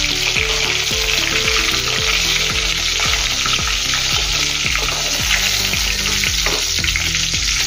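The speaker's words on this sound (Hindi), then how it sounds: "थोड़ा थोड़ा इसको तलना है, पूरा नहीं तलना है।" Eggplant pieces frying in hot oil for stuffed bharwa baingan, giving a constant close sizzle with rhythmic scraping and stirring taps throughout.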